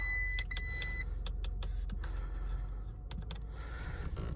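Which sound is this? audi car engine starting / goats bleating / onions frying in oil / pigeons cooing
audi car engine starting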